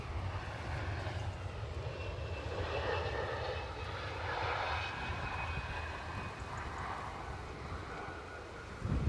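Passenger jet engines rumble at Edinburgh Airport as easyJet and KLM aircraft move out, a continuous low roar with a broad hiss that swells and eases slightly, heard from a distance with no talking.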